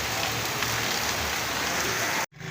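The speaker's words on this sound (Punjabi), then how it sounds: "ਆ ਦੇਖੋ ਜੀ ਬਾਰਿਸ਼ ਹੋ ਰਹੀ ਆ" Rain pouring outside, a dense even hiss of drops hitting surfaces close by, continuous and loud until it cuts off abruptly near the end.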